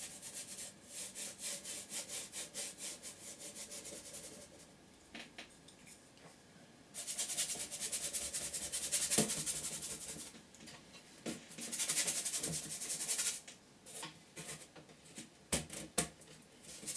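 Paintbrush scrubbing oil paint onto canvas for a background, close rhythmic scratchy strokes in bursts with short pauses, fairly quiet and with no talking.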